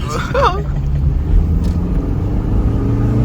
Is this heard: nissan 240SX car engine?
yes